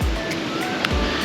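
Sea waves on a Pattaya beach wash in with a loud, close roar, and rushes of surf swell and fade over a brief span.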